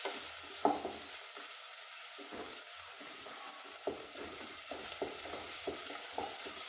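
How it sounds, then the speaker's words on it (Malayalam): Chopped onions sauté in hot oil in a pan, giving a steady sizzle with repeated scraping stirs and clinks of a spoon throughout. "ഈ എണ്ണയിൽ ഒന്നുകൂടി ഒന്ന് ഫ്രൈ ആവുമ്പോൾ നല്ല പോലെ അരിയും അത് നന്നായിട്ടൊന്ന് നമ്മൾ വഴറ്റി കൊടുക്കുക"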